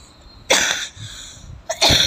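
A person coughing in a hospital setting, two harsh, close bursts separated by a short pause.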